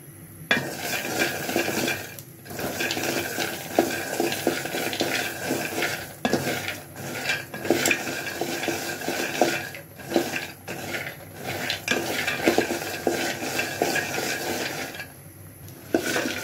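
Peanuts fry in soybean oil in a pan while being stirred, a constant crackling sizzle broken by repeated scraping and clinking of the spatula against the metal, close and loud throughout.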